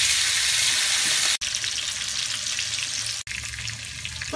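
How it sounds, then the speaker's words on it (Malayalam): Chicken pieces frying in a pan on low heat for a fried chicken curry, giving loud, steady hissing sizzle broken by two brief gaps. "ചിക്കൻ അതിലേക്ക് ഓരോന്നായിട്ട് ഇടാം."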